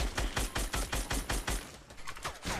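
Rapid bursts of gunfire in the video game Fortnite, a close, loud string of evenly spaced shots that slows and thins toward the end, with no talk over it.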